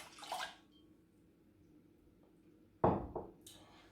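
Water and milk pour into a pan for choux pastry in two short bursts of splashing liquid, separated by a quiet stretch of low room noise.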